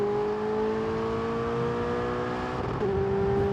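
Ferrari supercar engine in the F1 2022 racing game holding a steady high drone with layered harmonic whine, pitch sliding gently before a brief dip and recovery near the end; loud and continuous, no talk.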